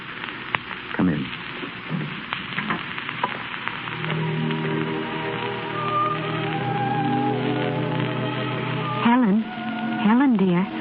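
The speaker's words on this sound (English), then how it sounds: "It's raining awfully hard." A heavy rain sound effect in an old radio drama hisses steadily under faint voices and background music, with a low hum running beneath.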